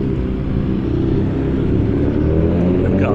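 Motorbikes race along the Blackpool promenade, a continuous low engine rumble with occasional revving that stays fairly close and constant throughout.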